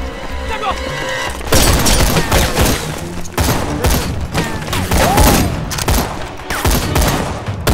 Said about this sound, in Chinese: 要是鬼子来了，枪声不会这么稀疏。